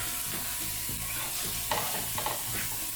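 Sausage and peppers fry in a pan with a steady, close sizzle, broken by a few louder scraping stirs partway through.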